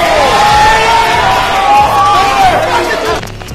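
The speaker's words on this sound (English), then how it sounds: "The crowd interrupted my bars as I'm bringing that bitch back." At a rap battle, the crowd roars and cheers loudly, with whoops and shouted voices layered into a dense, close mass of noise that eases off near the end.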